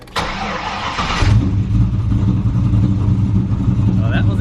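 An E85-fueled engine fitted with nitrous turns over and catches after fuel priming, cranking briefly before settling into a loud, rough, steady idle close by, with voices heard at the start.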